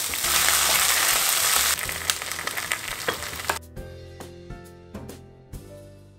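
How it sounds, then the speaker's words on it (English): Noodles are stir-fried before green onions go in, a loud hissing fry that drops off partway, followed by quieter clinks and scrapes of stirring in the pan. "stir it all together. Once it's almost done, this is where you want to add in your green onions."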